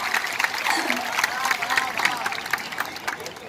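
A hall full of people at a Hindi poetry gathering clapping together, a dense, sustained patter of applause that holds steady for a few seconds.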